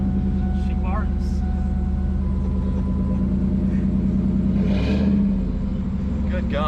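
A Toyota Supra MKIV Turbo engine runs loudly through an aftermarket exhaust with a deep, throaty rumble, holding steady and swelling briefly near the end.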